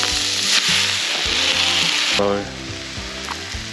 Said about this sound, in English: and I'm cooking pad thai.